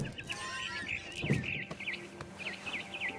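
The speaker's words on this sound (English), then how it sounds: "I heard chirping outside my window. It was a barn swallow going back to her nest." A barn swallow chirps in the video game What Remains of Edith Finch, a run of quick, high, bright calls repeating in a steady rhythm over a soft background, with no speech.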